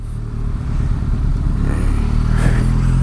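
A Benelli Leoncino motorcycle filters through traffic, its engine revving up and rising into a louder, sustained roar, heard up close with no talking.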